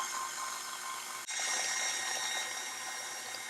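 Electric mixer whirring steadily through red velvet cupcake batter as dry ingredients are mixed in, a close continuous drone with a brief dip partway through.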